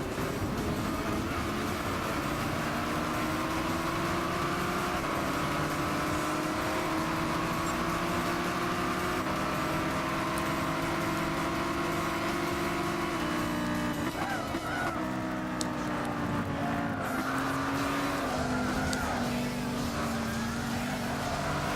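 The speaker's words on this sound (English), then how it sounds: "I think that was a slight engine sound glitch there" Race car engine in Gran Turismo 6 holding a steady high-pitched drone that dips and briefly stutters partway through, with sustained tonal bands shifting as revs change, continuous and loud with no talk.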